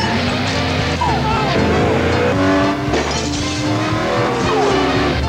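A race car driven by a racing champion revs hard inside a home, tires squealing and skidding across carpet in rising, sliding tones, with voices and music running underneath.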